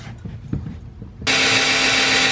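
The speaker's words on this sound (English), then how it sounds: "drilling holes." Power drill boring holes into a wall stud, starting abruptly after quieter shuffling and running loud and steady at high speed to the end, with no talk over it.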